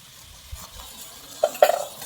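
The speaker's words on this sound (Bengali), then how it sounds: "আমি এখানে টক দই আগে থেকেই ফেটিয়ে রেখেছিলাম আমি দই দিয়ে দিচ্ছি দই" Whisked sour yogurt goes into a pan of cooked chicken and potatoes. A spoon gives a few soft stirs and light clinks over a faint, low sizzle, with no voice.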